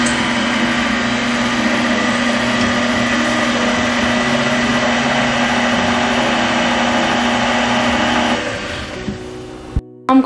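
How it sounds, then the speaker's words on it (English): A stand mixer running steadily on bread dough ingredients, whirring loud and constant for about eight seconds, then winding down and stopping with a brief clack at the end. "Just mix it for a few seconds to combine it."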